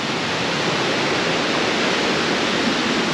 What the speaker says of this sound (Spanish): el río viene con una corriente muy fuerte